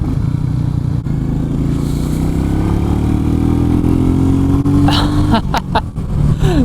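Royal Enfield Meteor 350 motorcycle riding on a highway, its steady single-cylinder engine drone loud and continuous with wind rush, the pitch sliding slightly as the bike shifts near the end.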